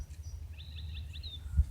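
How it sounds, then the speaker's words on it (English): A grackle gives a short series of thin, rising, squeaky call notes at a daytime campsite, faint and somewhat distant over a low background rumble. "There's the Grackle."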